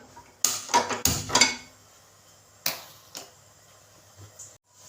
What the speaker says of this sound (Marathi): आता इथं मी गॅसवरती एक पॅन ठेवलेला आहे आणि गॅस चालू करून घेते